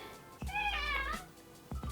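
A house cat gives a single clear, drawn-out meow close by in a quiet kitchen, with soft thumps before and after.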